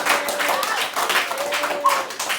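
A class of students claps hands in a classroom, a moderate, somewhat uneven patter of claps lasting a couple of seconds.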